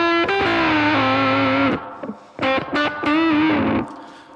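An electric guitar through a BOSS GT1000 multi-effects unit, guitar gain rolled low and reverb added, plays sustained distorted notes and short phrases that ring out close and loud, with brief pauses between.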